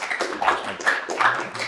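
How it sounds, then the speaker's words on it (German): Audience at a talk gives the speaker a brief round of applause: a few bursts of clapping, fairly close, in uneven pulses over under two seconds. "Der Applaus ist jetzt für dich."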